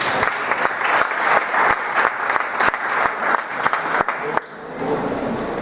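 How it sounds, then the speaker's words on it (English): Conference audience applauding steadily for several seconds, a dense wash of many clapping hands that tapers off near the end, with no one talking over it. "A round of applause, please."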